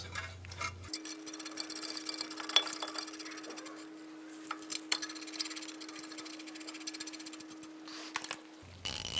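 Brake caliper bracket bolts on a 2007-2013 Mitsubishi Outlander are run in with a 17mm socket, a steady mechanical whir with scattered metallic clicks and ticks, fairly close, over a constant low hum, with no talking.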